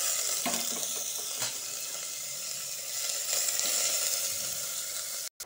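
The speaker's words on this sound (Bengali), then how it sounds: "তেলটা গরম হয়ে গেছে। পেঁয়াজটা ভেজে নিব।" Chopped onions sizzle and fry steadily in hot oil in a pressure cooker while making jackfruit biryani, a continuous close crackling hiss with light stirring, cutting off briefly near the end.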